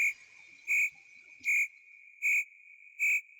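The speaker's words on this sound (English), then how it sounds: "Crickets out there, Chris." A crickets sound effect plays alone: a steady high trill with five louder, evenly spaced chirp bursts, clean and close.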